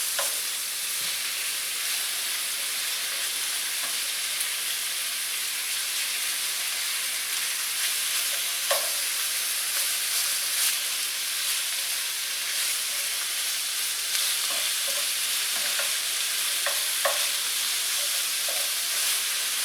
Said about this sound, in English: And now as it's cooking, we're just going to keep flipping it, feeding it.